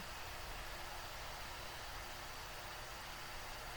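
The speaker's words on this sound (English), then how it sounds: "If you can hear it buzzing, I'm sorry, but my laptop has a fan in it like a jet engine" A steady, loud whooshing hum with no breaks, a laptop cooling fan running continuously close by.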